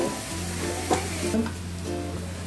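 Onions and sugar caramelizing in a pan for mutton curry give a steady close sizzle, with a few soft stirring scrapes and a low hum underneath.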